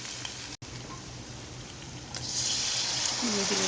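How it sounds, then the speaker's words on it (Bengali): Water poured into a pan of spice mix while cooking goat meat with chana dal, a steady running-water wash that swells louder near the end, with no talk. "এখন মশলাটা কষানোর জন্য কিছুটা পানি অ্যাড করব"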